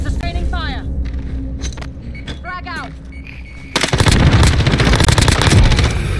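Video game gunfire in Call of Duty Cold War Warzone: someone talks over scattered game sounds, then a dense, loud burst of rapid automatic shots takes over the last couple of seconds.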